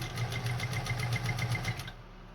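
A Singer 201-2 sewing machine stitches forward and reverse at its longest stitch length, a fast, even mechanical hum with regular needle ticks that stops abruptly near the end.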